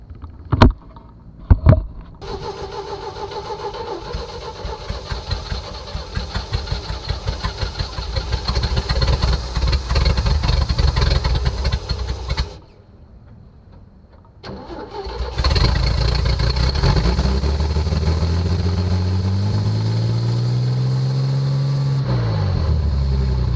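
A 1961 GMC panel truck engine cranks in short bursts, catches and runs with a loud steady rumble, cuts out briefly, then restarts and revs up and down as the throttle sticks.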